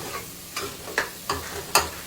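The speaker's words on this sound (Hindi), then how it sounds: "तो अभी मैं मसाले को भून रही हूँ अच्छे से" Masala being fried and stirred in a pan, a soft continuous sizzle punctuated by about five rhythmic scraping strokes of a spoon against the pan, close and unaccompanied by talk.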